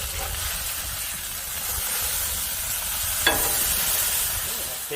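Bacon fries on a preheated Blackstone griddle, giving a steady, broad sizzle up close with one brief sharp scrape partway through.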